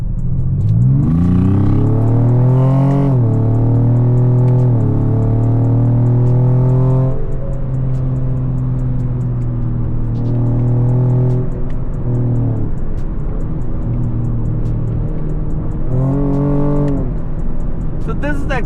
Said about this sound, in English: This is the exhaust note what we can enjoy inside the cabin